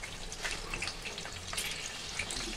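Whole green chilies fry in hot oil for vada pav, giving a soft, steady sizzle with scattered crackles and pops, close and fairly quiet.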